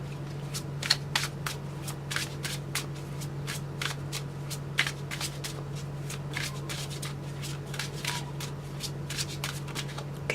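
Tarot cards being shuffled by hand at close range, a fast run of crisp riffling bursts and soft flutters repeating steadily for about ten seconds, with no talking.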